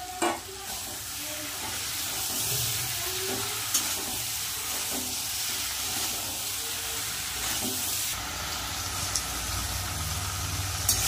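Pieces of fried fish head drop into sizzling spice paste for aloo katla ghonto, followed by steady frying hiss with stirring clinks and scrapes in the pan and a faint low hum underneath.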